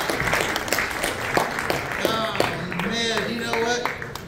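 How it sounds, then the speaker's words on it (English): A church congregation applauds its worship team at a Father's Day service, a steady patter of clapping blended with voices and a few sustained tonal sounds. "Go give another round of applause for our worship team."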